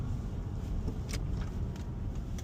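A car drives through a residential neighbourhood and turns left, its steady low engine and road rumble continuous and close, with no talking.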